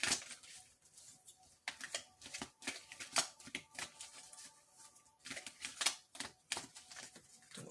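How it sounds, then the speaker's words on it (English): Oracle cards being shuffled by hand, with quiet bursts of rapid riffling and slapping card sounds in short irregular groups, close and soft, separated by brief pauses. "This first couple of shuffles."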